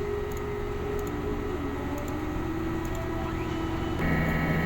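A DTF printer working through a print head cleaning cycle, its steady mechanical whir and pump hum carrying faint repeated ticks, with a louder motor shift near the end.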